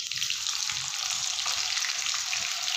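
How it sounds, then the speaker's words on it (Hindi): Cumin seeds and finely chopped ginger frying in about four tablespoons of oil, producing a continuous close bubbling sizzle with light spattering throughout. "इसे अच्छे से भून लीजिए।"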